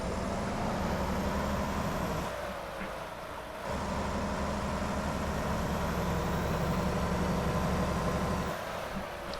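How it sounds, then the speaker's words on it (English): A truck engine in the video game American Truck Simulator drones continuously with a low rumbling tone, briefly dipping twice as if easing off, then steady again; no talking. "Hopefully you can hear me okay over the sound of the engine."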